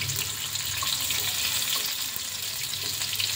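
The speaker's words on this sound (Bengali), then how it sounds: "এবার শুধু এগুলোকে হালকা হালকা করে ভেজে নেব, বেশি ডিপ করে ভাজা যাবে না" Chital fish balls fry lightly in a pan of oil, a steady soft hiss and sizzle with faint bubbling that holds evenly for several seconds.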